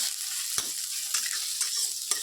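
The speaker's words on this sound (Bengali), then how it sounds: "পেঁয়াজটা রসুনটা আমারও ভাজা হয়ে গেছে একদম কম তেলে" Onion and garlic crackle softly in a little hot oil, a bright continuous sizzle broken by several sharp scrapes of a spatula stirring the pan.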